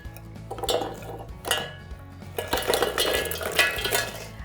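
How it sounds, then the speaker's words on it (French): Pieces of dry, stale bread tumble into a blender jar in a home kitchen for an apple bread pudding, making rattling, clinking knocks in several bursts at close range, with no voices. "on va commencer par verser le pain dans le mixeur"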